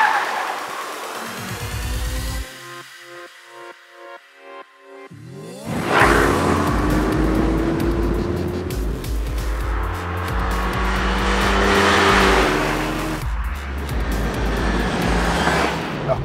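Renault Megane RS Trophy R (2015) driven hard on a circuit, engine revving up through gears with a brief lift and near-silence before a loud renewed surge of acceleration, sustained and close with shifts audible.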